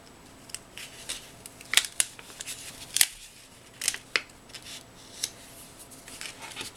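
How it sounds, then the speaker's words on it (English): Paper is trimmed with scissors in short, crisp snips that come in irregular clusters. The cuts are close and fairly quiet over a near-silent background. "I may have cut that a little crooked, but we can trim it."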